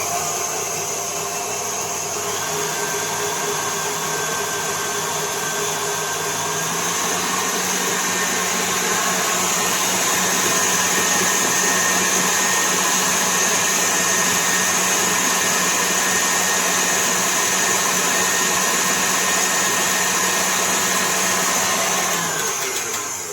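Stand mixer beating butter for buttercream, running slowly at first, then a continuous loud motor whine with a faint pitch shift partway through and no talking.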